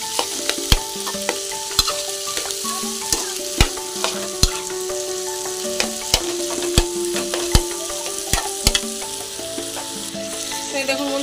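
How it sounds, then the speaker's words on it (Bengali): Potatoes and chickpeas sizzle steadily in a hot pan while a spoon or spatula scrapes and knocks against the metal in irregular strokes, close and fairly quiet. "আমি ভাজতে দিয়ে মানে ছোলাটা ভাজা ভাজা করতে দিয়ে"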